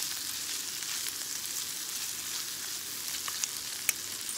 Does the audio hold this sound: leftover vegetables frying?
yes